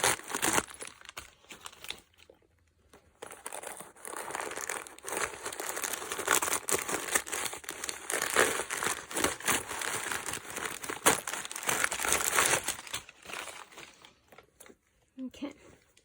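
Packaging around a handbag crinkles and rustles almost continuously as it is unwrapped, close and fairly quiet, with brief pauses and a voice at times.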